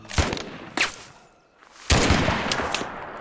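Gunfire in the war game Mud and Blood, sharp loud bursts of shots, an opening volley, a brief lull, then a denser stretch of repeated firing.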